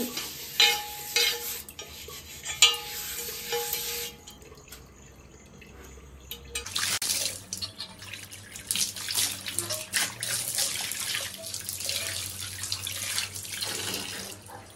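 A tawa griddle is scrubbed under a running tap, with a steady rush of water and scrubbing swishes that pause midway, then return louder and fuller at close range.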